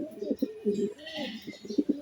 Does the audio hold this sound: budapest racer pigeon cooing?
yes